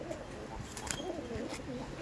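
Soft, low pigeon coos from a pigeon fancier's birds in Barasat rise and fall a few times, close by and fairly quiet, with faint background noise and no talking.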